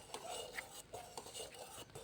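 A ladle stirs a pot of urad dal at a village ashram kitchen, with faint, quiet scrapes and light clinks recurring in a loose rhythm.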